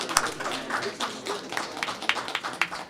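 Applause for a team, scattered hand claps from a modest crowd, irregular and mid-distance, rising and falling steadily across the whole stretch.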